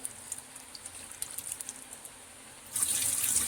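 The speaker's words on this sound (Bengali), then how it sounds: "এটাকে ভালো করে ধুয়ে নিচ্ছে জল দিয়ে" Peeled mangoes being washed: scattered soft drips and splashes for a few seconds, then a sudden louder rush of running water from a tap near the end, close by and with no talking.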